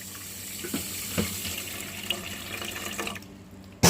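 Water runs in a steady splashing stream into a pan already holding sugar and oil, close and fairly loud, with a few small clinks before it stops abruptly.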